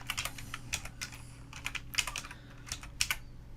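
Bursts of quick keystrokes on a computer keyboard, close and clear, arriving in short clusters separated by brief pauses, with no voices.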